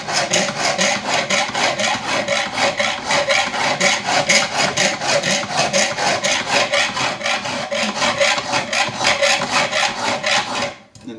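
A metal file worked over the bevel of a santoku paring knife, a rapid even rasp of back-and-forth strokes repeating steadily, close and loud, with no talking, ending abruptly.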